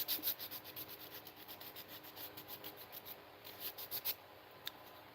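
Wood hoop earrings being sanded: rapid, rhythmic rubbing strokes of abrasive on wood, close and fairly quiet, repeating steadily with a brief pause and a small click near the end, no talk.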